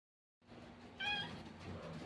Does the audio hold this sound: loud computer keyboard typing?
no